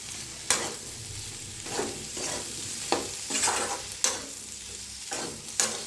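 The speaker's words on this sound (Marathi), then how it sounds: "शेंगदाण्याचा कूट दोन चमची त्याच्यावर टाकूया कोथांबीर आणि मिक्स करायचं" Spiced potatoes being stirred in a pan with crushed peanuts and coriander, giving a steady sizzle and a scrape of the spoon about every second, close and fairly quiet, with no voices.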